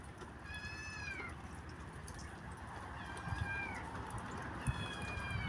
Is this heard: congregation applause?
no